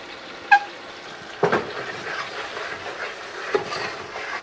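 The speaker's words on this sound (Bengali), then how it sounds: "নাও এবার হবে আসল কষানো।" Spiced chicken roast masala with yogurt and tomato ketchup sautés in a pan, giving a low steady sizzle broken by three sharp clinks of a spoon against the pan.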